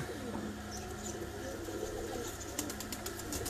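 Rooftop flock of pigeons, soft low cooing carrying on through a constant background hum, with faint chirps and light clicks near the end, a voice murmuring quietly underneath.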